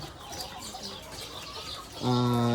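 Caged chickens at a poultry farm keep up a busy chatter of clucks and chirps. Near the end a louder, sustained call rises above the flock.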